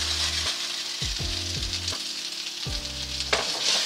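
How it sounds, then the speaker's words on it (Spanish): Rice searing in a pan for Spanish arroz a banda, a steady sizzle with a few stirring scrapes cutting through, close and alone without any talk. "Y lo vamos a sellar bien el arroz."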